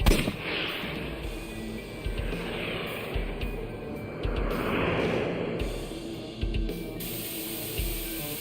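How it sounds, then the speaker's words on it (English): Bullets fired from a gun in AI: The Somnium Files, a string of sharp cracking shots spread across several seconds over a busy game soundscape, with a few louder reports standing out near the start and later on. "I'll try shooting it."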